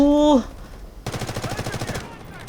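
Rapid automatic gunfire from an M4A1 rifle in the Delta Force video game, a dense rattling burst of about a second after a short tone, loud and close with no talk over it.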